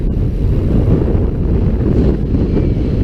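Strong wind buffets the microphone during a bike ride on the open coastal hills of Point Reyes National Seashore near the ocean, a loud continuous rumbling roar that fills the whole stretch with no talking.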